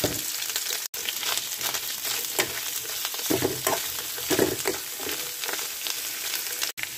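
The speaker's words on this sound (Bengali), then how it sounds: "এখন 2 টেবিল চামচ সরষের তেল দিয়ে শুটকিগুলো আমি ভেজে নেব।" Dried fish frying in two tablespoons of mustard oil, a steady close sizzle and crackle running throughout with occasional stirring scrapes and brief louder bursts, no talk.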